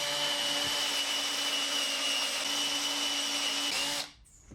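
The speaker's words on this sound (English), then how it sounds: "drill a starter hole using the Forstner bit" A power drill with a 3/4-inch Forstner bit runs loud and continuous as it cuts a starter hole in wood, holding a steady whine for several seconds before spinning down.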